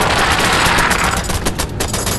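Sustained automatic gunfire in a video game, a dense loud stream of rapid shots that thins slightly toward the end.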